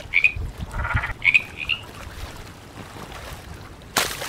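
A toy frog croaks in short chirpy bursts, two quick pairs near the start with a sharp clatter at the end, fairly close and clear against a quiet background.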